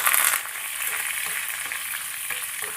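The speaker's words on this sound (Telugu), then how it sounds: "పోపు వేగిందండి" Urad dal, mustard seeds, cumin, dried red chilli pieces and curry leaves frying in hot oil, a close, steady sizzle with a brief louder spurt at the start.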